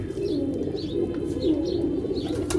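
A pigeon gives low, soft coos in a steady murmur, with a few faint chirps above and a constant low rumble of background noise.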